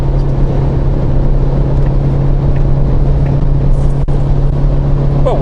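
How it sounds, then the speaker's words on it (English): Suzuki Jimny engine accelerating in fourth gear on a motorway: a loud, continuous drone with a strong low hum and road noise from inside the car. "Well, we're accelerating in 4th. It's getting quite noisy now."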